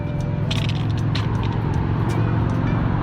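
A bus drives along a city street, its steady low engine rumble and road noise filling the scene at close range with no voices.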